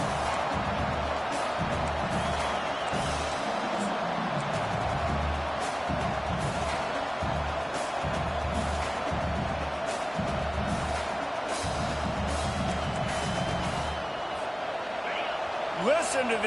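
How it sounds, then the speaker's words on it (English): A football stadium crowd roars continuously and loudly through the whole stretch, a dense wash of noise that holds steady from start to finish, with a commentator's voice running over it. "Listen to this crowd just shaking the girders of this place, trying to help their defense."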